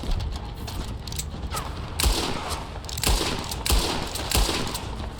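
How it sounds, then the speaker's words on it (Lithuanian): Gunfire in the Western video game Thieves Landing: a fusillade of shots with several heavy thudding bursts about every second, loud and close, over a busy game soundscape. "Kažkas šaudo."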